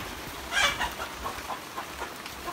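Chicken clucking near a wattle-and-daub ranch hut under construction with a wood-burning stove, a few short clucks bunched together early on, then fainter scattered calls over rustling background.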